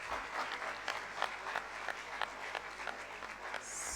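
Audience applause at a high school inter-house business venture event for grades 11 and 12, a steady dense wash of clapping sustained throughout, moderately faint and roomy, with no talk over it.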